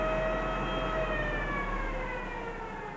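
The electric motor of a BMW EV conversion whines at about 2,500 RPM, a loud steady tonal whine that slowly drops in pitch over a low hum, close to the listener and with no voices.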